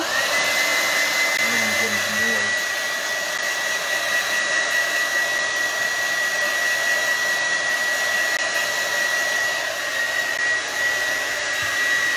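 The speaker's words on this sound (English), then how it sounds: "I'm gonna put my hair dryer on it while you do that" A hair dryer blows continuously with a steady, loud whir and high whine, close up, with no pauses throughout, drying gel stain on wood.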